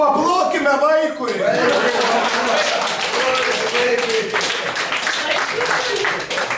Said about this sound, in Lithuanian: Paplokime vaikui.